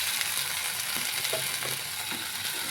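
Half-boiled taro dropped into spices frying in a pan, a close continuous sizzle with a few scraping stirs and clatters, no voices.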